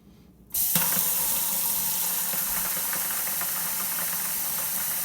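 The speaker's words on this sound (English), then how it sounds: "we'll take some boiling water and we will let him soften up" Boiling water poured over a plastic action figure, starting abruptly after a brief quiet and continuing as a steady, loud rushing splash close by, with no talking.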